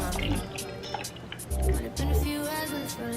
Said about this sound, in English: So now I'm gonna pour in the liquid into here so it's just easier.